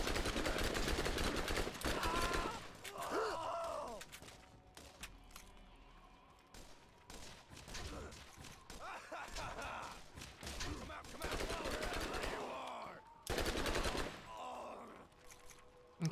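SMG gunfire in the video game Borderlands, heard as rapid automatic bursts that start and stop several times, mixed with in-game effects and players talking.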